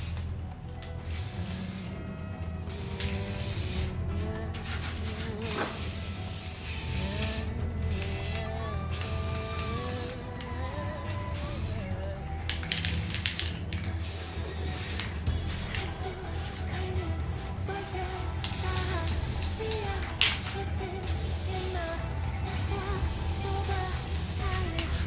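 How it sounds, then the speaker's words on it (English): Steady hiss of a spray gun painting a cosplay mask, running continuously for the whole stretch with brief pauses and restarts, close and fairly loud, no voices. "we go ahead and spray the skin right now"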